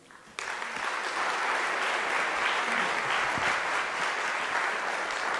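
Audience at the EDHE Lekgotla 2025 bursts into applause after the event is declared open, starting abruptly and continuing as a sustained, even wash of many hands.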